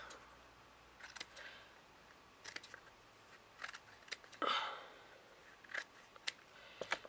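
Paper being trimmed with scissors for a shoe box craft, close and quiet, with a series of short snips scattered across the clip and one longer rasping cut near the middle.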